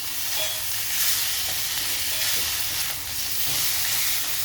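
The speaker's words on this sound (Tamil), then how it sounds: "அடுத்து அழகாக கிண்டி விடணும்." Masala sizzles loudly in a pan for mutton curry, a constant hissing fry broken by occasional stirring scrapes, close and with no voices.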